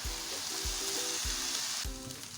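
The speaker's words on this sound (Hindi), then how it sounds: "अब हम इसमें ऐड करेंगे राइस। अब हम अच्छे से मिक्स करेंगे।" Rice being mixed and fried with chicken for fried rice, a dense loud sizzle with rhythmic low scraping strokes of the spatula roughly every half second.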